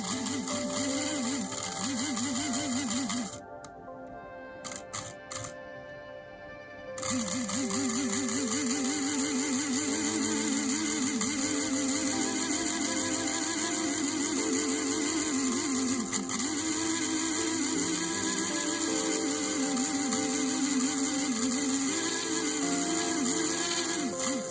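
A Roundhouse Baldwin outside-frame 2-8-0 steam locomotive in HOn3 scale runs under power with a steady, close mechanical whir and buzzing motor hum that cuts out briefly, then resumes and continues evenly.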